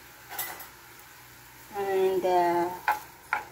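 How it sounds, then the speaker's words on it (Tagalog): Carrots and potato fry in a pan, a low sizzle broken by a few scraping stirs and clinks of a utensil against the pan, with a brief tonal hum in the middle. "dito sa kawali ay iprito tayo ng ating carrots and"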